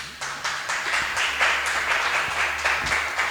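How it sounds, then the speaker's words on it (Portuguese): Congregation at a Christian church service applauding, a broad steady wash of many hands clapping at moderate volume with a low hum beneath, no speech over it. "Você pode aplaudir o Senhor Jesus?"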